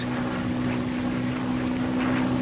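A steady, loud engine drone from a North American P-51 Mustang on its pre-landing approach, with the propeller set to 2,500 RPM. A constant hum holds evenly throughout, with no voices.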